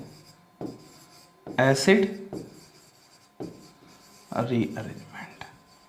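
Chalk or marker writing on a board during a chemistry lecture, heard as several scratchy bursts of strokes spread across the clip, fairly close, with a gap between groups of writing.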